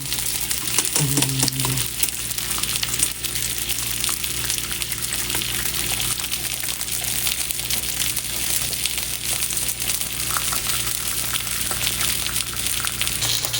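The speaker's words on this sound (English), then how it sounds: "Bring in the bacon, fried up in a pan. Let's enjoy the sizzle." Bacon fries in a pan with a loud, continuous crackling sizzle, dense popping and spitting fat sustained close up throughout, with a brief low tone near the start and no talking.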